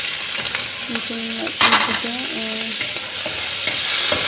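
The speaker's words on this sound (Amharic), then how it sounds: "እየተጠበሰ ነው። ቅመሙ ሲጠበስ" Steady sizzling of food frying in a pan, with scraping stirs and faint tonal sounds in the background, close by.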